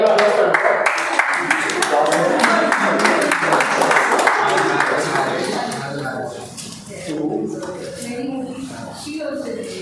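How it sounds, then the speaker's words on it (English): Audience applause at a Toastmasters milestone celebration meeting, a dense patter of clapping filling the first several seconds, then thinning and fading as voices and room chatter take over. "Let's have a round of applause for her"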